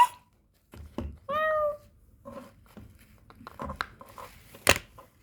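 A cat gives a short, clear meow at close range, mixed in with scattered rustling and clattering noises in a quiet room.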